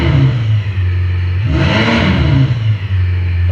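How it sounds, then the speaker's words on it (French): A Lamborghini Aventador V12 engine settles into a deep, rumbling idle, then gives a sharp rev that swells and falls away back to the steady burble, close and loud with no talking. "Le démarrage, c'est le bruit d'une Aventador V12."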